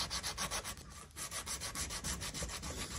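80 grit 3M sandpaper is rubbed by hand over a wooden knife handle clamped in place, giving steady, rhythmic back-and-forth rasping strokes, close and continuous, with no voices.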